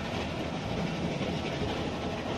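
A moving train in the video game The Walking Dead, a continuous rumbling roll with faint clickety-clack from the wheels, steady and fairly close, no talk.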